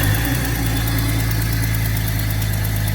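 Jeep Cherokee engine idling steadily after a fan clutch replacement, with a loud, continuous low rumble and a constant mechanical whir close by, and no voices.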